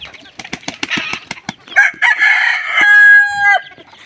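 Kapatagan White Kelso rooster crows one full drawn-out call, close and loud, preceded by a rapid series of clucks and wing flaps.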